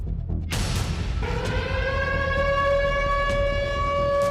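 An air raid siren in Ukraine wails after a brief low rumble during a Russian attack, holding a loud, steady rising tone over continuous background noise.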